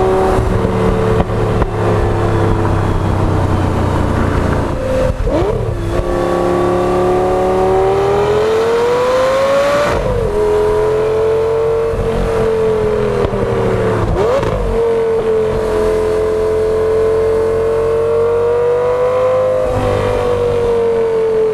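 An Audi RS3 with an automatic gearbox revs repeatedly toward redline, its engine note rising steadily, dropping sharply at each shift, then climbing again, loud and close with no talking.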